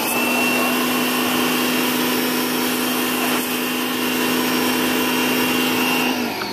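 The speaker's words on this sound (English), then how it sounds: "I got a power washer here" A power washer sprays a car to try to shift stuck tar or asphalt, a loud, continuous hiss and motor hum held steady and close for several seconds with no talking.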